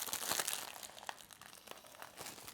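Crinkly plastic bag of flaky sea salt being handled and pulled at while someone struggles to open it, with a close run of dry crackling and rustling bursts that comes and goes without any talk.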